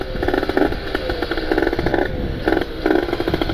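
A Kawasaki Ninja RR motorcycle with a ported engine and loud exhaust revs hard nearby, a raspy two-stroke roar rising and falling in repeated bursts with no talk.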